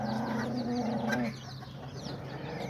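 Chickens cluck steadily around a rooster in a backyard, with a dense layer of clucking and squawks close by and a low hum underneath.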